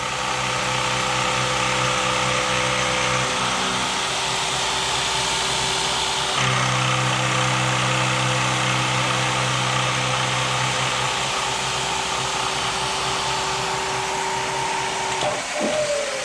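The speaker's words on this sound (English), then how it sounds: "So we're just milling back and forth, just decking that surface and making it all flat." Bridgeport milling machine decking a flat surface, making passes back and forth: a steady, loud motor whine and cutting drone with sustained tonal hum, shifting pitch midway and winding down near the end, no talk.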